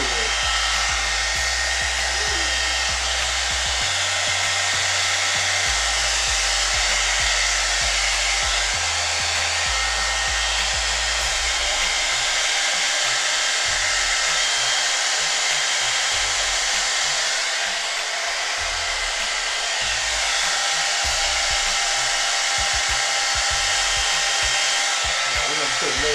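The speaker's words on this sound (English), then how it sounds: "what I'm gonna do is just get the blow dryer" A blow dryer runs continuously at close range, aimed at a broken Xbox to heat it, a loud, steady whooshing roar with a few shifts in its low hum as it is moved or its setting is changed.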